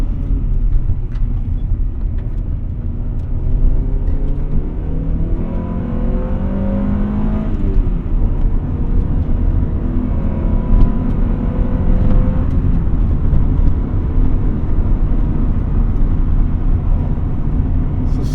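A 1998 Honda Prelude Type SH heard from inside while driving, a steady loud engine drone with gentle rises in pitch as it accelerates, continuous and close with no talking.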